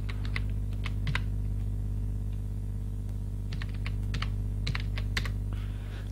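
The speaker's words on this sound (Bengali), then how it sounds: "এখন আমি এখানে সার্চ বক্সে লিখব" Keys tapped on a computer keyboard while entering text into a search box, a few short bursts of sharp clicks separated by pauses, close and clear over a steady low electrical hum.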